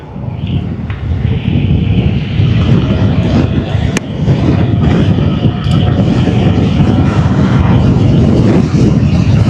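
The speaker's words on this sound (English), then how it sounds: "A lot of wheel spin on this scooter." An electric scooter accelerates hard with its wheel spinning, then rides on as a loud, rumbling, wind-buffeted roar that builds and holds steady, with a few sharp clicks along the way.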